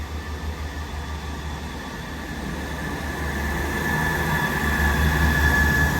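An East Midlands Railway passenger train pulls out of a station in the early morning. A low rumble and whine build gradually and grow louder as it gets under way, with no talking.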